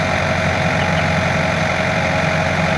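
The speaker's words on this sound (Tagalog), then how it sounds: "Ipaugong na ni Kuya ang makina sa Yanmar mga mamsir." A Yanmar harvester engine idles close by, a loud, steady mechanical drone with an even low rumble and a slight knocking texture, running without pause and with no voices over it.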